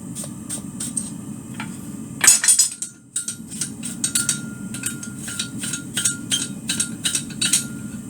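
Blacksmith forging a steel cross on an anvil: a steady series of close, bright metallic hammer strikes with ringing overtones, irregularly spaced, over a low constant roar of a forge or blower.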